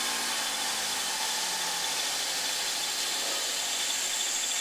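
A Sunnen EC-3500-E precision honing machine hums steadily as its spindle lowers, a constant broadband mechanical whir with a faint tone sliding downward early on, nearby and without talking.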